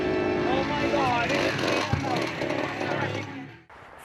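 A chainsaw runs at a Halloween haunted house, its loud revving snarl up close and mixed with people's voices and shouting, then cutting off abruptly near the end.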